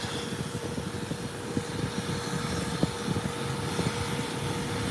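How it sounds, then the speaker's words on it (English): An airliner taking off gives a steady, broad jet roar from a distance, holding fairly even over several seconds with no voices on top. "Look at this takeoff."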